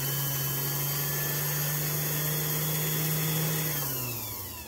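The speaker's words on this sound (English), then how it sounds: "So to wind a bobbin, you undo the clutch and hold the bobbin winder against the wheel." The electric motor of a restored Singer 237 sewing machine hums loudly and steadily while winding a bobbin, holding one pitch before winding down and fading away near the end.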